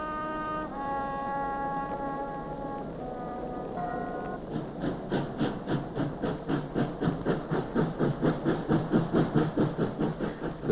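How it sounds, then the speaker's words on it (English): A steam train horn sounds first, then rhythmic chuffing puffs build into a steady, quickening beat as the locomotive moves through Karlberg station in Stockholm, loud and close. "The trains are still puffing through old Karlberg station"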